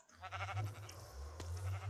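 A Minecraft sheep bleats faintly in a few short, wavering cries over a steady low background hum. No one speaks.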